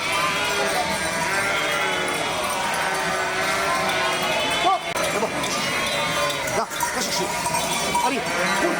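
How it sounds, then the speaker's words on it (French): Sheep bleat repeatedly as they are driven through the streets of Lunel during a transhumance, amid a noisy outdoor crowd, with people chatting and hooves clattering on pavement throughout. "ils poussent les moutons."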